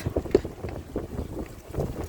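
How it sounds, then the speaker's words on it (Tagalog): Gusty wind from a sandstorm in the UAE blows and thumps against the microphone in uneven bursts, fairly faint, with no one speaking. "Ay, grabe! Sandstorm na naman!"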